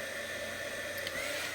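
A heat gun blows steadily on gouache paint, giving a constant whirring hiss with a faint tonal whine that stays even and continuous throughout.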